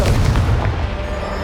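The Confringo fire spell going off in Hogwarts Legacy, a short rumbling blast with a heavy low-end roar that fills the whole moment.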